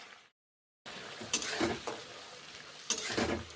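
Split green chilies and peas hit hot oil in a wok after a moment of silence, bursting into a busy sizzle with sharp crackles and spatters, and a couple of utensil scrapes standing out close by.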